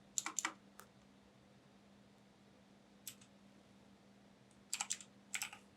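Short bursts of keystrokes on a computer keyboard while entering text for a gaming thumbnail design, clustered clicks at the start, one brief burst mid-way and two more rapid runs near the end, close and fairly quiet over a steady low hum.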